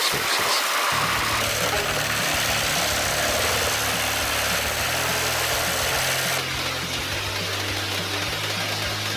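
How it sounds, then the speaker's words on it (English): A wood crusher with sharp cutting blades and a powerful engine runs steadily and loudly, a continuous mechanical drone with a brief word spoken early on. "Equipped with sharp cutting blades and a powerful engine, it can quickly shred wood into chips or sawdust"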